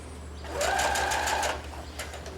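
A sewing machine stitches denim jeans in one close, steady burst of about a second, starting and stopping cleanly against a quiet room with a faint low hum.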